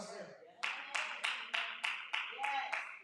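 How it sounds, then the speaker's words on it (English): A church congregation at a Sunday worship service claps in unison, about eight evenly spaced sharp claps in a steady rhythm after a brief stretch of quiet talk. "See, we clap to the wrong thing."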